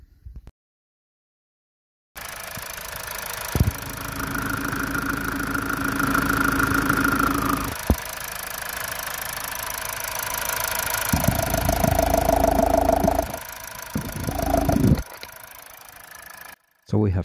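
A Mazda 2.2 Skyactiv-D diesel engine idles, heard at the top of the engine bay: a steady, regular mechanical hum with a few brief knocks and tonal shifts, starting after a short silence and cutting off near the end.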